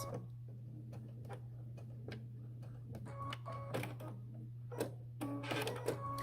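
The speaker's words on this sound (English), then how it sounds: "stitch right up to where the apron starts and back stitch" A sewing machine stitches an apron, running in short bursts of rapid ticking over a steady motor hum, with a few quick back stitches near the end.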